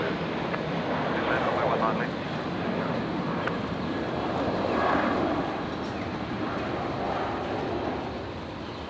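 An airliner landing at Brisbane International Airport, a steady broad jet roar swelling and easing across the runway with no distinct peaks, heard from a distance beneath a voice speaking.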